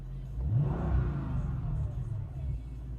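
A Mercedes E55 AMG accelerates on the road, its engine revving up with a deep, loud rumble and rising whir from close inside the car, holding steady under load with no talk.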